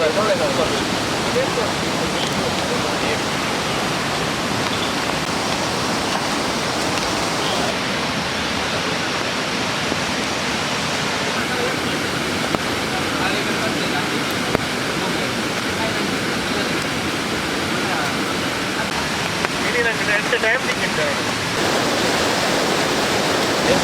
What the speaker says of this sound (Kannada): ನೀರು ಪೂರ ಬರ್ತದೆ